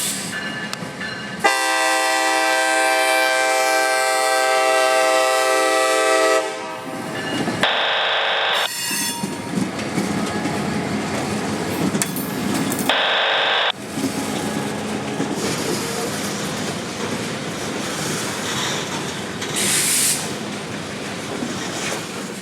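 CSX freight train on the Kingsland Subdivision, headed for Craft Yard: a loud, sustained horn blast followed by the steady roar and rumble of passing cars, punctuated by further short horn bursts, close and continuous throughout.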